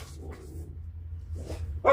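Dogs barking in a few separate bursts, some yips and a whimpering edge, heard at moderate distance against a quiet background with a louder bark at the very end.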